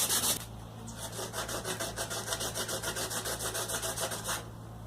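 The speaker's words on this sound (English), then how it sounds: "you can actually take off some of the ridge by just sanding it" Rhythmic back-and-forth sanding strokes rasp against a hard molded edge, taking down its ridge, steady and close, roughly twenty passes with a low hum underneath.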